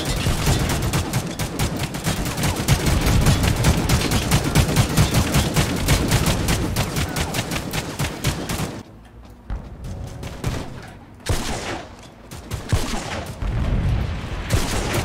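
Rapid, relentless gunfire in The Mean Greens toy-soldier shooter, loud and steady for about nine seconds, then a drop to sparse shots and quieter gaps, ending with a few more close blasts.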